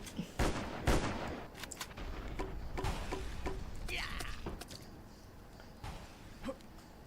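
Gunfire in the mobile ninja platformer Ninja Arashi 2, sharp shots cracking in uneven bursts among game effects, loud and close, with a few lighter hits trailing off toward the end.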